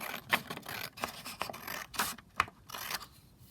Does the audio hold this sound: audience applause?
no